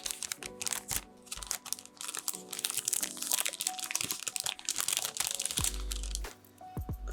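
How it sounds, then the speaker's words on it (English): Crisp plastic packaging crinkles and crunches around a new Daniel Smith watercolor paint set, a close, busy run of crackles and rustles with brief pauses and no talk. "The crinkling of plastic,"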